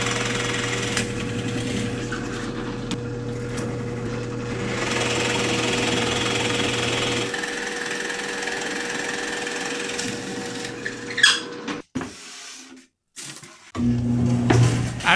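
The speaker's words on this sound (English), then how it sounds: "After the holes are drilled," A drill bores holes through a wooden dovetail saw handle blank, giving a steady, loud mechanical whine with a constant tone for several seconds. It then stops and starts in short bursts near the end.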